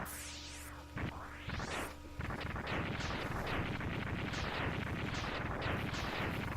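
In Mega Man X3, a castle erupts in a rapid barrage of retro game explosions: sweeping falling tones open it, then dense, loud, overlapping blasts pound on continuously.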